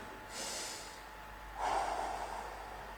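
Breathing during a Body Step exercise: two audible breaths close to the microphone, the second a longer, stronger exhalation, against a quiet background.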